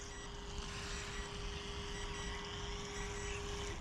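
A WLtoys WL917 jet boat's remote control beeps for low battery, a continuous steady electronic tone droning without a break, sitting over a low motor-like hum and watery background noise.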